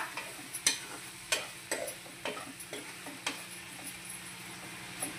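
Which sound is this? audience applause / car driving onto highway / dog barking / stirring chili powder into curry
stirring chili powder into curry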